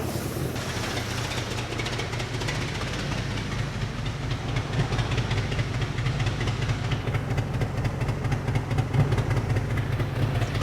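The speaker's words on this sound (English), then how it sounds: "The beer is making its way through the entire combustion chamber and pulling out the exhaust." A car engine ingesting beer runs continuously with a rough, rhythmic chugging idle, a steady low rumble that grows slightly louder partway through, with no talking.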